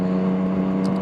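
A modified Yamaha MT-09 motorcycle engine drones loud and close, a steady buzzing roar held for a brief moment with little change in pitch.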